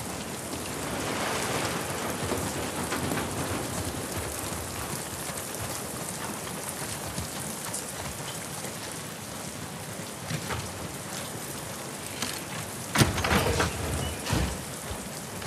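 Rain falls steadily in the video game The Last of Us Part II, a constant broadband hiss with a slightly louder burst of drops near the end.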